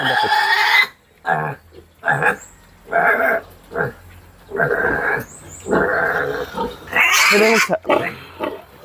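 A piglet squeals in loud repeated bursts with short gaps while it is injected with ivermectin by disposable syringe, close to the microphone, and a person talks in between.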